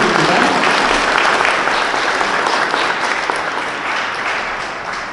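Sustained audience applause fills the hall at a diary foundation's exhibition and declaration ceremony, steady and dense from start to finish and tapering slightly toward the end, with no voices over it.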